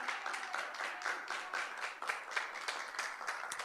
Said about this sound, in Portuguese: Aplauda ao nome do Senhor.